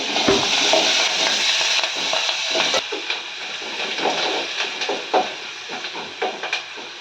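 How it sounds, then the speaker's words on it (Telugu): A tempering of spices with salt stirs and fries in a hot pan, a steady loud sizzle and hiss with repeated scraping strokes of a spoon, close up and without speech. "ఒకసారి మనం ఈ పోపుని కలుపుకుందాం."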